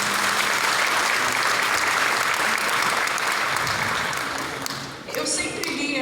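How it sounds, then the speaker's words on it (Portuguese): A church congregation applauding after a Gospel reading, a thick, sustained round of clapping from many people that fades near the end as a voice begins to speak. "Aplauda a palavra de Deus."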